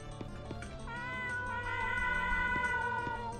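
A cat in a video game meows repeatedly in drawn-out, wavering calls that rise and stretch into a yowling caterwaul, loud and close with no talk over it.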